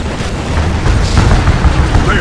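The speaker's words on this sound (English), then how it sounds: "Tiberium explosion detected" A Tiberium explosion in the real-time strategy game Command and Conquer 3: Tiberium Wars, heard as sustained, loud, rumbling booms and bursts with dense low-end energy running through the whole stretch of battle noise.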